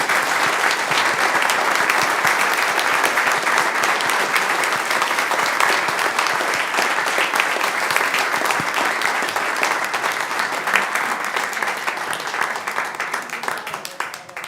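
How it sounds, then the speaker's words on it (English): Sustained, dense audience applause rings out steadily for about fourteen seconds at a gathering, loud and even before easing slightly at the end, with no talking over it. "Can I get a round of applause?"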